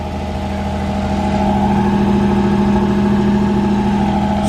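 A 1983 Buick Regal with its factory 3800 engine and dual exhaust idles steadily, a continuous low rumble with an even hum that holds at constant loudness throughout, with no voices.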